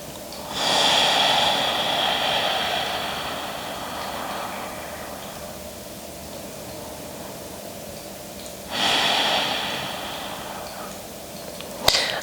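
Two slow, quiet breaths, each a soft airy rush that swells and fades, with near silence in between, during a calm yoga session.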